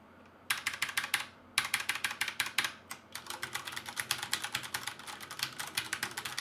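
Rapid, even typing on a Ducky Shine 5 mechanical keyboard, crisp clicking keystrokes in quick continuous bursts with brief pauses, close and fairly loud with no voices.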